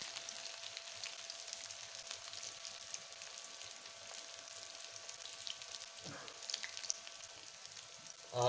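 Chapli kabab frying in a pan over low heat, a soft continuous sizzle with faint crackles and a brief clatter near the end, and no talking.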